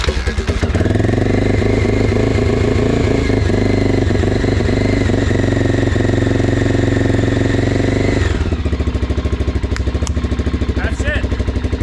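A Honda XL600R dual-sport motorcycle engine, started after months of sitting, runs loud and close with a rough, steady thump. After a short blip the revs drop and it settles into an uneven idle.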